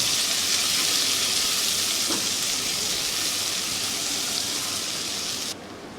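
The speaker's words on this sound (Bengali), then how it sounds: "পেঁয়াজটা প্রায় ভাজা ভাজা হয়ে গেছে" Sliced onion and green chilli frying in oil in a pan with bay leaves and dried red chillies, making a dense, even hiss that is loud and close and then drops slightly near the end.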